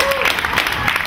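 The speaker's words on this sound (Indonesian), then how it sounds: "Anda di sana, beri tepuk kan." Audience applause at a poetry reading: a brief, dense patter of clapping from a crowd, steady and fairly close, with some voices mixed in.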